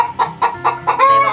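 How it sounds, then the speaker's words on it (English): Hens in a soil-blocking station on a Florida homestead cluck loudly and close by, a quick series of about five short, pulsing clucks with no other sounds. "My chicken is in my soil blocking station."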